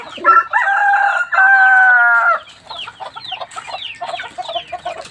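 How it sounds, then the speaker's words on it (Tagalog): An Aseel rooster crows loudly and close by, giving two drawn-out crows followed by a run of shorter clucks and calls. "napakalikot ng lalaking manok."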